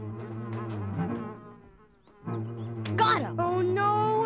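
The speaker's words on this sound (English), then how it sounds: "Like those bees over there?" Cartoon bees drone in a buzzing tone that rises and falls, cutting out briefly before returning louder, with voices talking over it.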